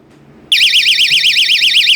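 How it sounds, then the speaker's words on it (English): A loud electronic door and window security alarm sounds abruptly after a brief quiet moment, a shrill continuous warbling siren tone rising and falling rapidly and steadily. "that alarm is alerting you"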